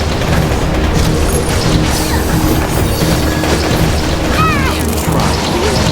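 Guardian Tales game combat with ice bombs smashing a boss's shield: a dense, continuous wash of booms, crashes and impact effects over game music, loud throughout with a few brief whooshing sweeps near the end.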